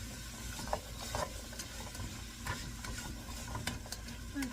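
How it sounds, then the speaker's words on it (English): Food being stirred in a pan with avocado oil, giving soft repeated scraping and clicking of the utensil over a low, steady sizzle, close and fairly quiet, with no talking. "I'm going to give this a good stir so it can get coated. And I'm cooking this in some avocado oil."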